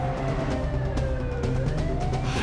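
An ambulance siren wails up and down, heard from inside the moving ambulance over a constant engine and road rumble, in a Turkish TV drama scene.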